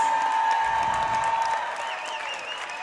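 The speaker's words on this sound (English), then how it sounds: "Let's give them one more big round of applause." Crowd in a high school gym applauding seniors on basketball senior night, steady applause that fades slightly, with a sustained electronic tone and whistle-like sounds over it.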